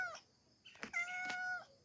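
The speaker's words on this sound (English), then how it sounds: "You can probably hear them whining." Several house cats whining close by, with drawn-out, wavering meows in short overlapping bursts in a quiet room.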